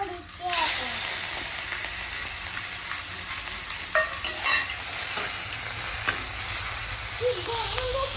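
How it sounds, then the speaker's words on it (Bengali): Shrimp fry in a pan with dried red chillies for a Bengali taro-leaf prawn dish. A steady, loud sizzle runs throughout with occasional stirring scrapes, and a voice is heard briefly at the start and near the end. "এবার চিংড়িটা ভেজে নেবো।"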